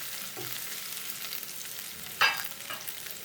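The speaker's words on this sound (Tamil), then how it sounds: "வெங்காயம் ஓரளவுக்கு நல்லாவே வதங்கிருச்சு." Onions sauté on a low flame with ginger and garlic for a vegetable samosa filling, giving a faint, steady sizzle with one brief scrape of a stirring spoon.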